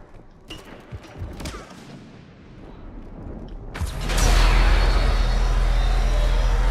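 Cannon fire in the video game Mass Effect 3: a few faint scattered sounds, then a sudden loud blast that rolls into a sustained heavy, low rumble.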